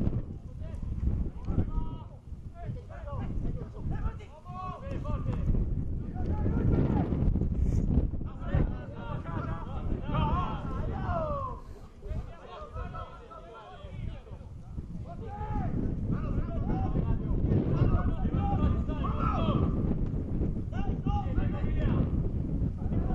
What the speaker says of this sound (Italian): La partita è disturbata da un vento fastidioso